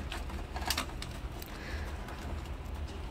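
A pigeon coos softly in a quiet space, a few low murmuring calls faint against steady background hiss, with no voices.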